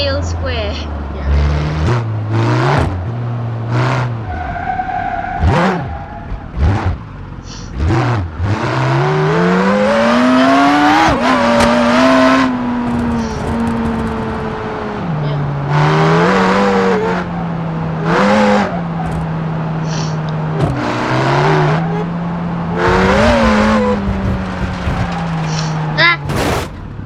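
Jaguar CX75 car in the BeamNG driving game, engine revving and changing pitch as it accelerates and shifts, with sharp bursts of crashes or skids, loud and close, alongside talking.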